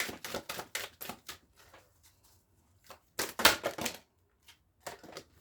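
Quick bursts of crisp riffling and snapping cards, in rapid clusters separated by short pauses.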